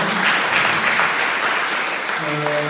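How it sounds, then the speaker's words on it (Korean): An academic conference audience applauds after a professor's presentation at a Sunmudo martial arts symposium. A dense, sustained clapping fills the room, and a voice briefly emerges near the end. "다시 한번 박수 한번 부탁드리겠습니다"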